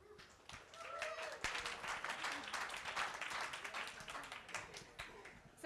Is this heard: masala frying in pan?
no